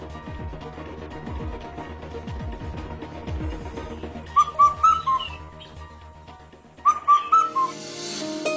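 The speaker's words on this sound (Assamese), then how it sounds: "এই চৰাইটোৰ মাতটো শুনিলে মোৰ মূৰটো গৰম উঠি আহে" Two short bursts of chirping, whistle-like bird calls ring out over low rumbling background noise, each a quick cluster of bright notes with a pause between.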